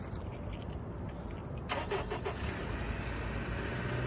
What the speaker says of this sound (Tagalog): Painit muna tayo ng sasakyan.